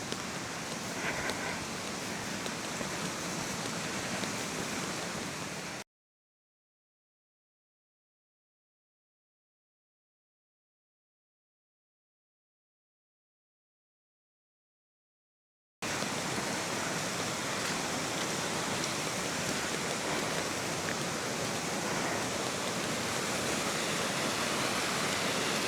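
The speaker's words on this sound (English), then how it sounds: "I'll show you the waterfall and then we'll have to go back." A woodland waterfall near Loch Coille Bharr in the Scottish winter gives a steady, full rushing roar of falling water. The sound drops out completely for about ten seconds in the middle, then returns unchanged.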